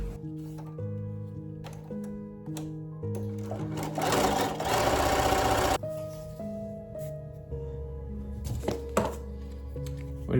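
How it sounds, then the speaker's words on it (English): A sewing machine zigzag-stitches along fabric strip edges in several short bursts separated by brief pauses and thunks, with one longer, louder run in the middle, heard close and alone. "zigzag stitch one of the sides"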